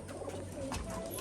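A large green pigeon coos softly under steady background noise in a short, low, murmuring call.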